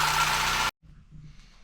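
A car engine runs loud and steady for under a second, then cuts off abruptly, leaving only faint low rumble and quiet background noise while it is being calibrated and warmed up.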